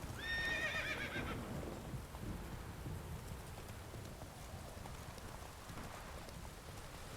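Roach, a horse in the video game Witcher 3, gives one short, clear neigh at the start, followed by soft hoof clip-clops over a steady rain-like ambient hiss, with no voices.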